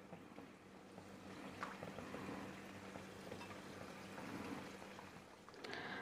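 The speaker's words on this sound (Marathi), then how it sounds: "आता मी राहिलेल्या सगळ्या कापण्या तळून घेणार आहे." Sweet jaggery kapnya fry in hot oil, a faint, continuous low bubbling sizzle with soft crackles and a low hum underneath, no talking.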